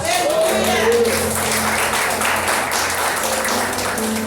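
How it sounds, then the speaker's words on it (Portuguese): Church congregation applauding at a Portuguese-language prayer service, a steady, dense wash of clapping that runs the whole time, with sustained music or organ tones and voices mixed in underneath. "Aplauda Jesus."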